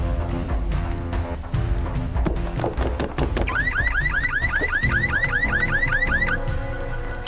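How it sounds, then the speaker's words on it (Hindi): A green Volkswagen's car alarm wails loudly with rising and falling electronic sweeps over street noise and the drone of a running engine. "वो गाड़ी का अलार्म बज रहा है।"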